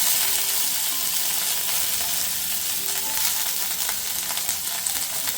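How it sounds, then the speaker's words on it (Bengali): Cut and washed vegetable stalks frying in hot oil with five-spice tempering and slit green chillies for a stalk chorchori, giving a loud, steady, close sizzle with faint stirring crackles and no voices. "এই মুহূর্তে আমি অ্যাড করে দিচ্ছি কেটে ধুয়ে রাখা ডাটাগুলো।"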